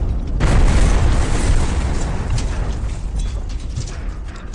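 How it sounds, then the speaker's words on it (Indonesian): A petrol tank explodes in an action film scene: a heavy, sustained blast with deep rumbling and crackling debris that fills the whole stretch, loud and close with no talk. "Brandon kembali mengecohnya dengan meledakkan tangki bensin untuk mengacau pandangan Marcelio."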